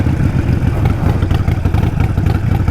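A Harley-Davidson Nightster 1200 motorcycle engine runs close and loud with a deep, uneven, lumpy V-twin throb that pulses rapidly and steadily.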